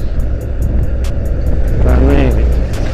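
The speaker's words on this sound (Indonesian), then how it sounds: "Nah ini trontonnya trailer ini kenceng, pelan banget ini, karena muatannya berat banget pasti" Heavily loaded tronton trailer trucks crawl slowly along a busy road, a dense, steady low rumble of diesel engines close by, with voices faintly mixed in.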